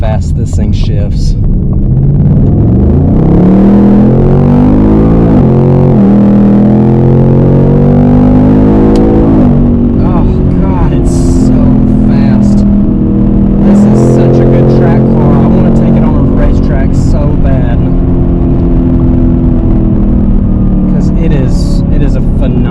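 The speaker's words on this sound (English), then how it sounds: "I'm going to pull through these gears again. Just listen to how fast this thing shifts." A 2021 Ford Mustang Mach 1 roars loud and close as it pulls hard through the gears, its engine note climbing in steady sweeps with quick breaks at each rapid upshift, the exhaust rumble filling the whole stretch.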